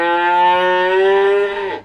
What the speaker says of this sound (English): Was that a cow sound?